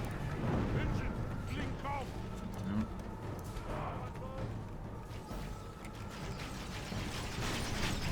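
Booming siege artillery fire and battle noise from a medieval strategy video game, with repeated heavy shots and rumbling over a dense mix of game sounds while someone talks over it.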